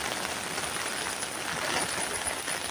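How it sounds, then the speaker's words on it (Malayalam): Steady rain falling outdoors over a large open yard, a dense, even hiss of drops on surfaces with gusty wind, continuous and fairly close, with no talk. "അപ്പോൾ ഫ്രണ്ട്സ് മഴയൊക്കെ പെയ്തു തുടങ്ങി കേട്ടോ."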